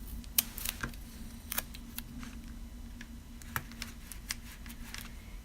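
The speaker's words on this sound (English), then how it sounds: "if you wanted these ends to be more straight, you can just cut them." Scissors make several small, quiet snips through the ends of washi tape on a handmade card. Soft crisp clicks land irregularly over a low steady hum.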